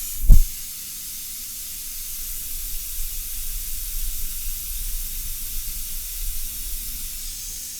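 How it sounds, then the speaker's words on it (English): An airbrush spraying out water after India ink makes a steady, continuous high hiss that lasts throughout, close and even, opening with a brief low thump. "put some more water in there, spray it out"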